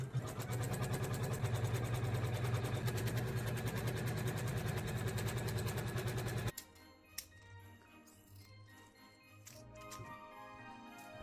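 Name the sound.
sewing machine stitching fabric layers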